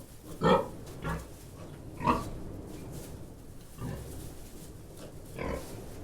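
Piglets grunting nearby, several short snuffly grunts and squeals spaced a second or two apart over a low background murmur.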